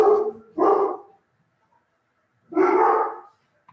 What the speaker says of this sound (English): Looks like I got a purelator order and the dogs have gone crazy.